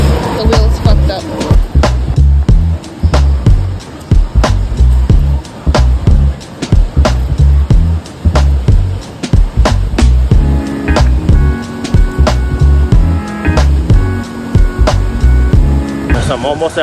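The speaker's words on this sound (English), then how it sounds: "I've been dragging this cart for like 8 blocks with 3 wheels" A three-wheeled cart with a broken wheel scrapes and rattles along a city street, loud, continuous and close, with repeated bumps and knocks as it is dragged over the pavement, and a person talks over it.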